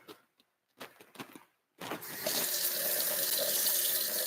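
A kitchen tap runs steadily to rinse homemade shampoo, the broadband water rush starting abruptly after a couple of seconds of faint handling noises and continuing loud and even to the end.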